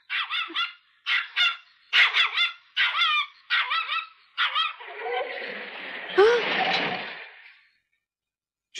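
A dog barks in a quick series of sharp, close yips and barks in bursts, then gives a longer whining, whimpering cry before falling silent.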